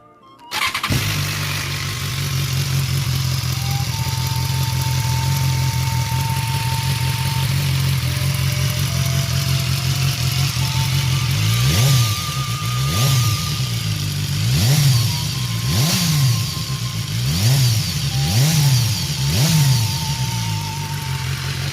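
A 2016 BMW S1000XR motorcycle with stock exhaust starts up and settles into a steady, close idle, then gives several sharp throttle blips that rise and fall in quick succession.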